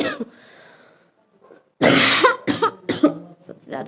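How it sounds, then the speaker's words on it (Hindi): A woman who is sick coughs harshly and close, a burst of rough coughs and throat clearing after a short quiet pause, with brief vocal sounds mixed in. "सबसे ज़्यादा हो रही ना खांसी"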